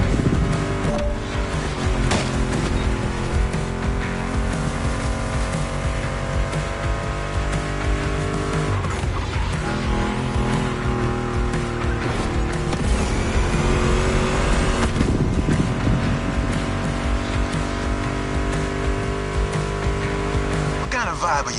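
A Mustang GT muscle car engine rumbles steadily through a ride, with revving swells and a constant loud drone, overlaid by music and voices throughout.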